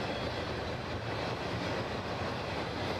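A potash freight train rolls past a trackside camera, a dense continuous rumble and rattle of rail cars that stays loud and steady throughout, with no voices.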